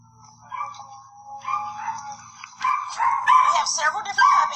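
Dogs bark and yip at a dog pound in a film scene, several excited barks and whimpers rising in intensity, mixed with people talking over them.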